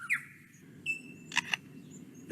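A forest songbird mimics a camera shutter, giving sharp double mechanical clicks between whistled tones and chirps, clear and fairly close against a quiet woodland background.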